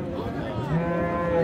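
Cattle at a rural livestock market low in a single drawn-out moo lasting over a second, fairly close and clear against faint background murmur.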